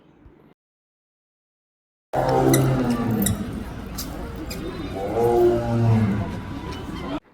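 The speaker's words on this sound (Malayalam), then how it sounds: "ആദ്യം ഞാൻ വിചാരിച്ചു ഇതിന്റെ ഓളി കേട്ടിട്ട് പശു വന്ന്, പിന്നല്ലേ മനസ്സിലായേ പുലിയാന്ന്." A leopard at a zoo gives a loud, close, rasping call with repeated grunting pulses after a brief silence, sustained for several seconds.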